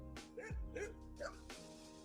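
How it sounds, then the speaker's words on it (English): Dogs bark a few times outside a locked school building by a playground, a short series of yips and barks at moderate distance, fairly faint over a steady background hum. "These dogs are serious."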